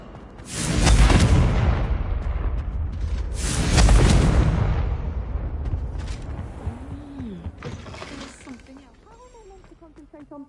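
Two loud Confringo spell explosions in Hogwarts Legacy boom a few seconds apart, each fading into a rumbling tail, followed by voices speaking.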